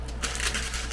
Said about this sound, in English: That was the sound of me throwing away the instructions